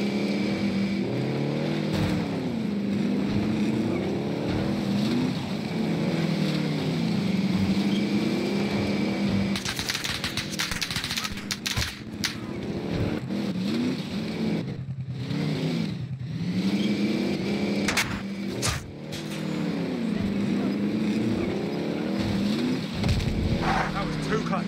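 A light vehicle drives in the Call of Duty: Modern Warfare game, its engine revving up and down in repeated surges. A loud break of noise interrupts it partway through, and voices talk over the engine.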